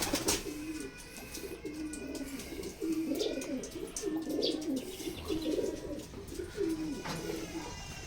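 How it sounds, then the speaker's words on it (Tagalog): Racing pigeons in a loft coo in soft, repeated low murmurs, several birds overlapping steadily at a moderate distance, with faint chirps and rustling behind. "Anim na mga kalapatids."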